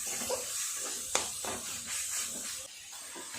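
Chicken paste with spices is stirred in a hot pan, a steady sizzling hiss with soft scraping strokes of the spoon, close and continuous.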